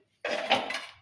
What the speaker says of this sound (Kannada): ಕುಕ್ಕರ್ ಮುಚ್ಚಿ